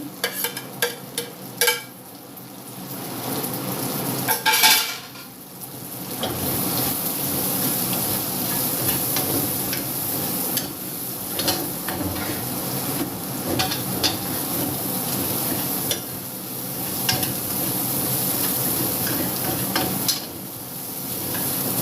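Onions fry in hot oil for chicken tikka masala, giving a continuous, fairly close sizzle with occasional stirring clatter and no talking.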